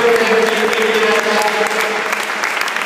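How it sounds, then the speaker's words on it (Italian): Loud, dense applause from a crowd at a sporting celebration, continuous clapping filling the space without a break. "Un applauso comunque di nuovo"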